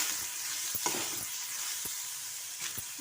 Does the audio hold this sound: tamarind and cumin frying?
yes